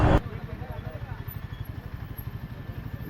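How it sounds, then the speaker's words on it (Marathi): A motorcycle idles while being parked, its engine throbbing in a steady, even low pulse close by for the whole stretch. "आता इथे पुढे जाऊन आपण आपली बाईक लावूया"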